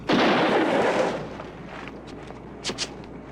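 A gunshot rings out in the 1958 film Touch of Evil, a single loud close blast with a decaying rumble, followed by faint scuffs and a couple of short sharp knocks.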